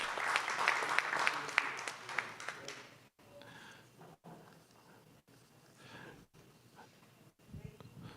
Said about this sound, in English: A big round of applause to our Grand Chief Donald Marshall Sr. Memorial Award recipients